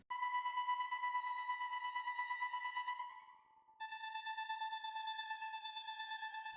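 A bright, buzzy synthesizer tone with a rapid pulsing wobble, held steadily, dipping briefly midway before returning with a wider, fuller sound from a Wider stereo widener plugin.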